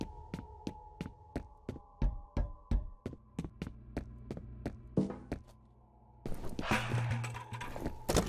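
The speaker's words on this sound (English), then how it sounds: "heard me knock something over in the distance" Something is knocked over somewhere distant in the horror shooter F.E.A.R. A steady series of sharp knocks comes first, followed by a burst of clattering, rattling noise near the end.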